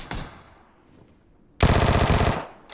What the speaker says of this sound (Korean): 총소리